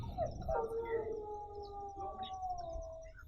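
Monkey calling nearby on the route to Kedarnath: long, drawn-out wailing cries that rise and hold steady, overlapping each other, with no talking.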